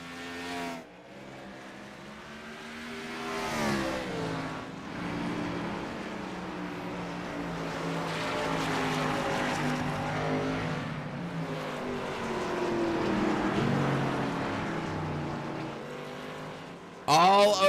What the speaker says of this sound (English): Matt just playing fantastic defense there in that Royalty Motorsports 72 machine